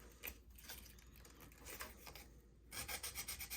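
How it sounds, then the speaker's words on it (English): Folded 600 grit emery paper rubs back and forth along edges, making a faint, close, continuous rasping scrub with quick repeated strokes that turn busier and more rhythmic toward the end. "And you want to sand it. Till you get nice shiny edges right there."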